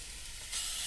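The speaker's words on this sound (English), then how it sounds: "It's sizzling." Tandoori chicken pieces laid skin side down in a hot pan, a bright crackling sizzle that suddenly swells louder halfway through as more hits the oil, close and steady with no voices.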